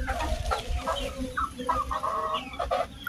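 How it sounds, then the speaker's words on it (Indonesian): A chicken clucks and cackles nearby in a steady run of calls over low rumbling background noise, with no talking. "Ini ayam, guys."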